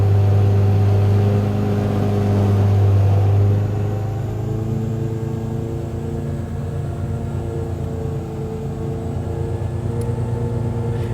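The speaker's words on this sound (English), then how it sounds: "And we're now running the engine at 3500 RPM." A car engine holds steady at 3500 RPM during ECU tuning on a dyno, a loud continuous hum with a low rumble that eases slightly after a few seconds and stays even throughout.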